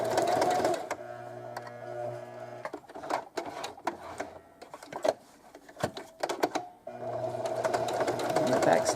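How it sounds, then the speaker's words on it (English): A sewing machine back-stitches and forward-stitches an appliqué onto a sweatshirt, running in steady bursts at the start and end. A person talks quietly between the runs, over scattered handling clicks. "Back stitch, forward stitch."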